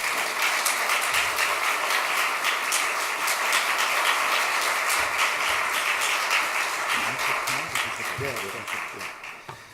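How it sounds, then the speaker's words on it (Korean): A church congregation at a Friday evening worship service applauds to welcome a speaker, a sustained and dense round of clapping held for nearly ten seconds before it starts to thin out at the end. "박수로 환영해 주시기 바랍니다."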